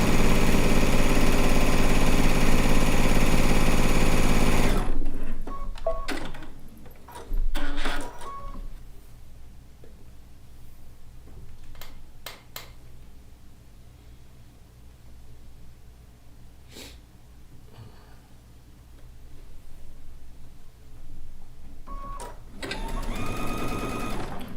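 A sewing machine runs in a fast, steady whir for several seconds while stitching a rag quilt, then stops, followed by quieter handling clicks, fabric rustles and scattered taps.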